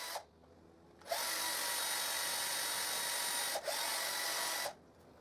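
A power drill bores a guide hole into a wooden pallet piece, whining loudly and steadily for about three seconds, pausing briefly, then running again for a second before stopping.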